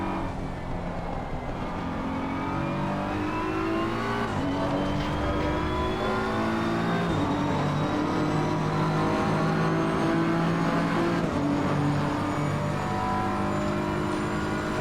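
A V8 Lexus race car engine in the racing game Assetto Corsa Competizione drones and revs continuously, pitch climbing and dropping with gear shifts, loud and close with no voices.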